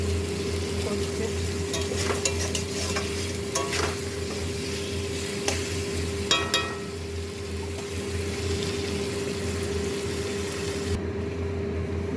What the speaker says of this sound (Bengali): ঝোল ফুটছে, এবারে আস্তে আস্তে মাছগুলো দিয়ে দেবো।